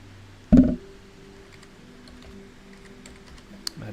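Computer keyboard typing, close and quiet: a thump at the start followed by scattered, irregular light key taps over a soft room hum.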